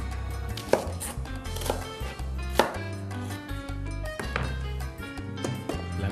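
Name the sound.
chopping red onion with a knife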